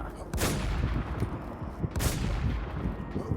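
Gunfire in the battle-royale shooter Warzone, with two sharp bursts of shots standing out from a busy game-mix background.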